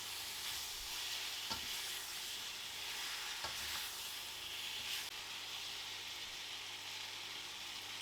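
Beef stirred with tomato ketchup, rice wine vinegar and dark soy sauce in a hot pan, a steady quiet sizzle with a few soft scrapes of a utensil during mixing.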